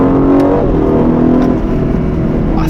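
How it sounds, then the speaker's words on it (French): Aston Martin DB12 with its 680 hp V8 accelerating, a loud, steady engine roar that builds continuously from start to end with no voices over it. "Le V8 est assez sonore."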